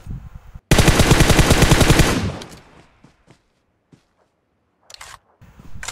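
A long, loud, rapid machine-gun burst in a war video game, lasting about a second and a half before fading out, with a few shorter clicks and shots scattered afterward.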